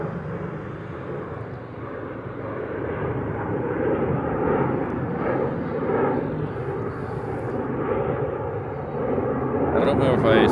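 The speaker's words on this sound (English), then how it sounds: "this is a P8. Departing out of Hickam." A Boeing P-8 military patrol jet departs from Hickam, its broad, steady engine roar holding loud and near throughout with little change, and a brief brighter burst near the end.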